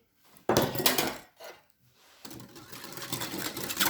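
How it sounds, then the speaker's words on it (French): A whisk beating cake batter of oil and milk in a bowl for an apple cake, giving a close, brisk clattering scrape that starts after a brief pause and carries on steadily with a short break. "Et maintenant, nous allons fouetter."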